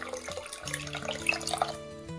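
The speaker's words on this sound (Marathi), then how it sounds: "प्रथम आपण हा तांदूळ स्वच्छ धुवून घेऊया" Running water splashes and trickles as rice is rinsed, with faint clinks and a soft tonal hum in the background; no one speaks.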